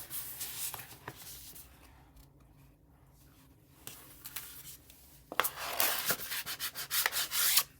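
Material being burnished by hand onto a jewelry display board at a desk: soft close rubbing and scraping strokes, quiet at first, then growing into louder rapid rhythmic rubs.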